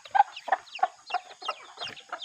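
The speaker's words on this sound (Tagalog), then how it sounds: "Ayan may piso" A chicken clucks close by near its coop with a chick, giving a series of short, rhythmic clucks spaced about a third of a second apart with faint chirps mixed in.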